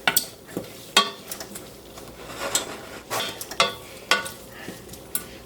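Cumin and cardamom being stirred in a pot, with repeated scraping and clinking strokes at an uneven rhythm over a faint sizzle, fairly close.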